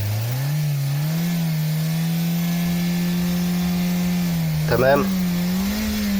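A car engine runs at a steady, moderately loud drone with a slight rise in pitch while the driver waits for cooling fans that have a controller fault. A brief voice cuts in near the end.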